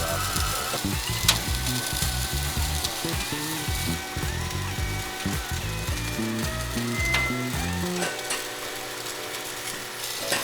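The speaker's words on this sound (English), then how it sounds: "we switch the tip and the wire so we can start welding on the journal" Wire welding on the journal of a rare 427 engine's crankshaft during restoration: a steady, close crackling sizzle runs throughout, with faint machine hum and tonal whine underneath.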